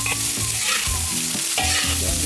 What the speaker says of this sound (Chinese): 先给它炒一炒啊。